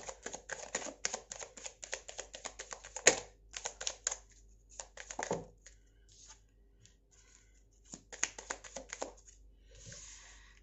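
Tarot cards are shuffled in a dense flurry of rapid riffling flicks, followed by scattered card taps and slides, close up and fairly quiet.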